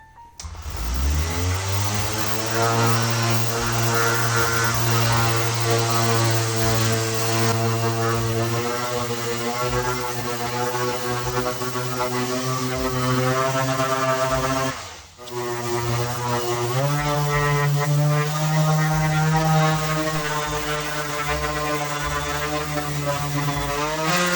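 A power sander with coarse-grit paper grinds thick paint off an Ural electric guitar body, a loud, steady motor whine that cuts out briefly partway through and then spins back up, with no talking.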